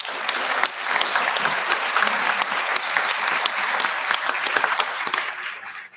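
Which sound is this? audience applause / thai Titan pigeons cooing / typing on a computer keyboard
audience applause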